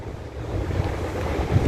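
Sea waves wash against the shore at low tide. The low surf rumble is steady and moderately loud, mixed with gusty wind buffeting the microphone.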